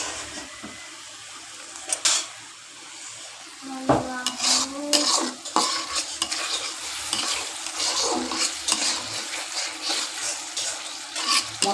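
Chicken and potato curry gets stirred in a pan, a spoon scraping and knocking against the metal in uneven strokes over a soft sizzle, close and without talk.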